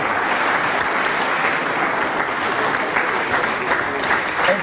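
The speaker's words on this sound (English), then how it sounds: "Give him a nice round of applause." Steady, dense applause from a snooker audience fills the room for the whole stretch, loud and even with no single voice standing out.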